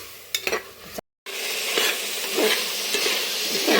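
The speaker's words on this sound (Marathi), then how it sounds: "मस्त आपला जे पूर्ण भाजीपाला आहे मस्त फ्राय झाला" Mixed vegetables sizzle in hot oil for a vegetable biryani, a loud, steady frying hiss with a few stirring scrapes near the start and a brief gap before the sizzle resumes.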